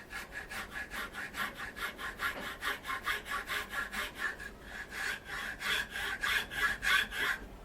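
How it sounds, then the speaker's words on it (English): A hacksaw cuts through a wooden casting pattern for a chuck in steady, rhythmic back-and-forth strokes, about three per second, close and moderately quiet with no talk. "I haven't got a small wood saw, so the hacksaw will do."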